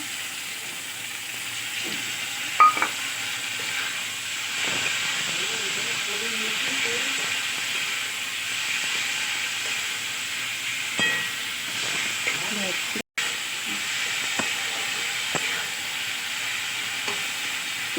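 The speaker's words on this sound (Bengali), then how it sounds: "পেঁয়াজ টমেটো চিংড়ি মাছ দেখো সব একসঙ্গে নিয়ে একটু ভেজে নিলাম" Onion, tomato and shrimp fry together in a pan, giving a soft, steady sizzle broken by occasional stirring scrapes, with faint voices in the background now and then.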